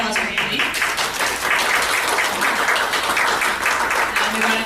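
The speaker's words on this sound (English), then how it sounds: "A round of applause for Angie." An audience at a writers' anthology event at The Timbers applauds, a dense, continuous wash of clapping that holds steady and fairly loud, with some voices mixed in.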